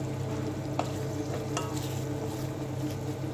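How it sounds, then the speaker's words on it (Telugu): Spice paste frying in plenty of hot oil for a fish curry, a loud continuous sizzle up close with a couple of sharp spoon clinks against the pan. "పేస్ట్ వేసేసుకుందాం. దీన్ని వేయించుకోవాలి."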